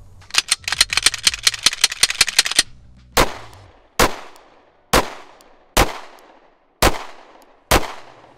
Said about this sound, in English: we're gonna put the gun back together and we're gonna put some rounds through it